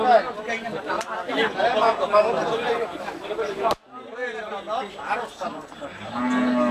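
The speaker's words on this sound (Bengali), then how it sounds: "মোটামুটি একটা গরু আসতেছে" Cattle moo repeatedly amid a busy cattle market in Anwara, Chattogram, with people chattering close by throughout.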